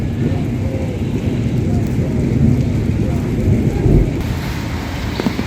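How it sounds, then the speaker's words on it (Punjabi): Steady heavy rain pouring down with a low rumble of thunder underneath, continuous and close, with no voices. "ਬਰਸਾਤ ਜਿਹੜੀ ਉਹ ਸ਼ੁਰੂ ਹੋ ਚੁੱਕੀ ਹੈ"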